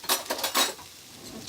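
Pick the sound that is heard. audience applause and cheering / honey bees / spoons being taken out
spoons being taken out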